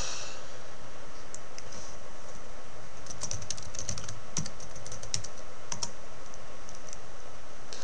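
Rapid, uneven bursts of keystrokes on a computer keyboard as a command is entered, close and crisp, with short pauses between clusters of clicks and no voices.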